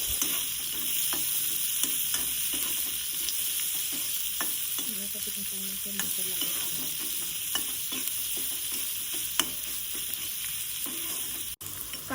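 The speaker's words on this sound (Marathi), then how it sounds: "बारीक चिरलेला कांदा घातलाय हे सगळं व्यवस्थित परतून घ्यायचंय" Finely chopped onion sautéing in oil with curry leaves and asafoetida, a continuous close sizzle with occasional light ticks and scrapes of stirring, steady and unbroken, no voices.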